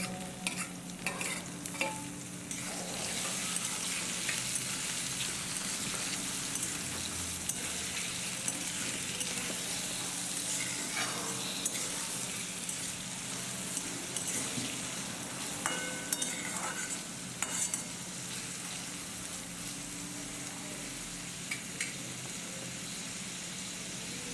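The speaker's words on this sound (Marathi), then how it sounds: "टोमॅटो सुद्धा चांगल्या प्रकारे आपण परतून घेतलेला आहे" Tomatoes fry in hot oil in a pan over a medium flame, a steady broadband sizzle with scraping stirs and spoon clicks close by, with no voices throughout.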